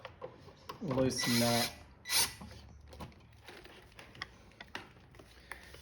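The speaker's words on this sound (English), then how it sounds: "Now 1/4 inch socket again. I'll just loosen that." A ratchet with a 1/4 inch socket loosens a fuel line fitting near a fuel tank, heard as a short burst of close mechanical clicking, then a metallic clink and scattered light taps.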